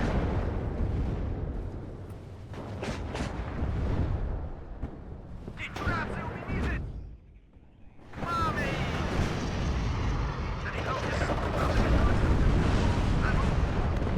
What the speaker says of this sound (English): Getting some good shots in there from the T-55s